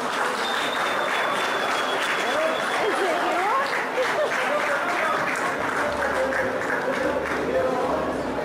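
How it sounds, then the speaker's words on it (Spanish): A crowd claps at a Central American competition awards announcement, steady applause running throughout with voices and cheers mixed into the dense clapping. "Un fuerte aplauso, por favor"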